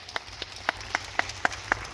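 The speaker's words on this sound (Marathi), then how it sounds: "त्या कलाकारासाठी एक टाळ्या झाल्या पाहिजेत." A small audience at a police station gathering claps for an artist; a sparse, evenly spaced run of single sharp claps sounds faintly, about four per second.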